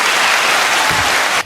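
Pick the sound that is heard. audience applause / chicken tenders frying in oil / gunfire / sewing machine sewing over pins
audience applause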